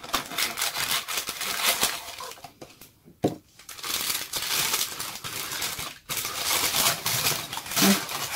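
Unboxing a small box that holds a traditional Japanese mask: steady crinkling and rustling of paper packaging close up, broken by two short pauses, with no talking.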